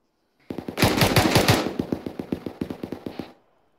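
Autocannon on a BMP fires in a video game military operation: a dense loud burst of rapid shots, then a steadier string of about fifteen evenly spaced heavy rounds, close and alone with no talk.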